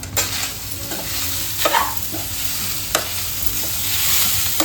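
Soya chunks fry with onion in a pan, a steady sizzle that runs throughout while a spoon stirs and scrapes the mixture with a few sharp knocks against the pan. The frying is close and loud, and no one speaks.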